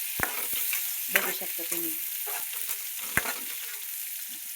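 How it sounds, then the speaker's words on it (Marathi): Onion and curry leaves fry in a pan with a steady sizzle, broken by sharp clicks and scrapes of a spoon stirring. A voice speaks briefly over the cooking. "चांगला कांदा असा फ्राय होऊ द्यायचा"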